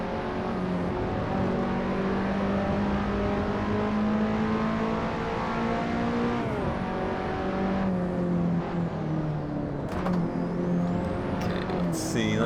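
Race car engine in the Assetto Corsa video game, a lightweight car reported down on power, revving and shifting steadily with whirring tone and gear changes, plus brief tyre or brake noises.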